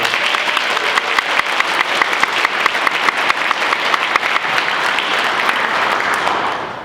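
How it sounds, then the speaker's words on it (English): An audience at a Tuba Christmas concert in Duluth, Minnesota claps loudly and continuously, a dense crowd ovation with distinct sharp claps standing out, tapering slightly at the end. "one more round of applause for everybody."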